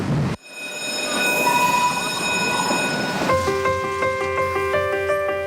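A train rolls along rails on the outskirts of Tunis, a steady loud rumble of wheels and carriage noise that shifts at one point into a sustained tonal squeal and hum, close and continuous with no voices.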